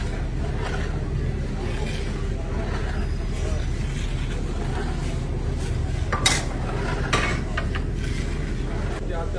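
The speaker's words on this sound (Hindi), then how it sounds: "ये मिक्स किया जा रहा है इसको अच्छी तरह और देसी घी डाल के इसमें" Kofta dish being mixed in a pot with desi ghee at a Lahori street food stall, with steady metal clinks and scraping under a constant low rumble of busy surroundings, a couple of louder clanks near the end.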